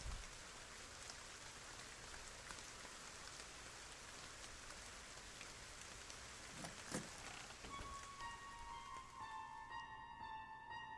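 Steady rain patters on surfaces in a dark horror game forest, a soft continuous hiss of falling drops, faint and even, with tonal game chimes rising near the end.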